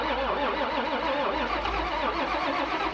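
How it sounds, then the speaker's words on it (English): A sixty-odd-year-old farm tractor engine fires up on a 32-degree freezing day, catching immediately and running with a loud, steady, close mechanical chugging throughout, no voices over it. "the 60-some-year-old tractor pops right off on a 32-degree day"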